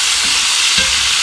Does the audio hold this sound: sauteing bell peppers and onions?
yes